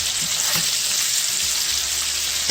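Butter sizzles steadily in a frying pan for a chicken scampi pasta, a dense, continuous crackling hiss close up with faint low stirring clinks beneath and no voices.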